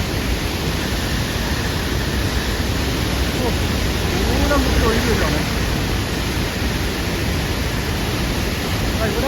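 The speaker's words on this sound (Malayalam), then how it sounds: "അവിടെ നിന്നാ വെള്ളം ഒഴുകി വരുന്ന വരവുണ്ടോ" Steady rushing water of a monsoon stream flowing down a hillside beside a cracked road in Idukki, a dense continuous roar filling the scene, with a brief spoken phrase over it.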